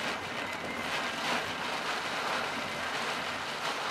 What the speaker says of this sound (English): Jeez, this rain's coming down.